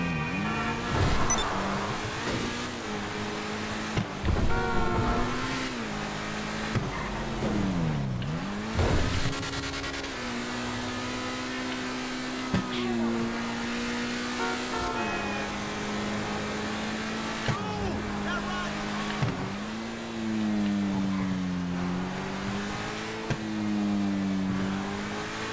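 A car in the video game GTA 5 drives and revs, its engine pitch repeatedly climbing and dropping through gear changes with occasional sharp bursts, loud and continuous for the whole stretch.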